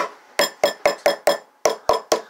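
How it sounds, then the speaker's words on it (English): The pointy end of a small meat tenderizing hammer taps pork mountain oysters in a kitchen, eight sharp, evenly spaced knocks with a brief pause partway, close and distinct with no talking. "So now I just take a little meat tenderizing hammer and take the little pointy end."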